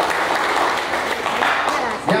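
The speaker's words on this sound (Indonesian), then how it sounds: "berikan tepuk tangan untuk Tuhan" An audience at a church gathering gives a dense burst of clapping, loud and close, with a voice briefly heard near the end.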